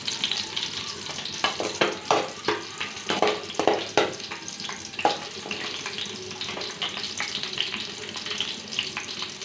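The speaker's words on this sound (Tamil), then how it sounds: "ஃப்ரெண்ட்ஸ் கடுகு பொரிஞ்சிச்சு, பச்சை மிளகாய் போட்டிருக்கேன்." Mustard seeds and green chilies crackle and sizzle in hot oil close up, with irregular popping bursts and stirring clatter over a steady frying hiss.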